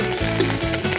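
Green chillies and curry leaves frying in hot oil for Andhra-style green chilli chicken, giving a dense, loud, continuous crackling sizzle close up with no talk.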